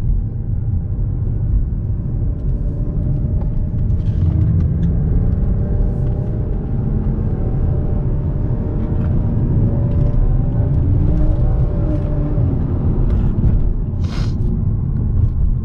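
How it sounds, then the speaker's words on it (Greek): BMW E92 325i accelerating on a road, a steady engine rumble and road noise holding throughout with slight shifts in pitch as it moves through gear changes, heard from inside the car without any talk. "Άρα να βλέπετε πως φεύγει τα αμάξι με τις αλλαγές."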